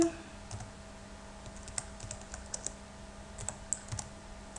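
Irregular light key taps on a computer keyboard, close and quiet, with uneven pauses between the clicks over a faint steady hum.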